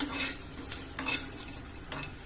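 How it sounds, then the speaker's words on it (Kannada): Almonds dry-roast in a kadai without ghee over a medium flame, giving a quiet, rustling stir with a faint sizzle and occasional soft scrapes of the pan, close and gentle. "ಈಗ ನಾವು ಕಡಾಯಿಗೆ ನಾನು ಬಾದಾಮಿನ ಹಾಕುತ್ತಾ ಇದ್ದೀನಿ ಬಾದಾಮಿನ ನೀವು ಡ್ರೈ ಆಗಿ ಫ್ರೈ ಮಾಡ್ಕೋಬೇಕು"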